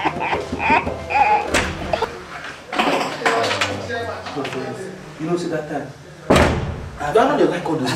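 Door in a comedy skit, hit by several hard slams and thuds spaced across the scene, loud and close, with a sharp final bang, while voices shout and argue over the noise.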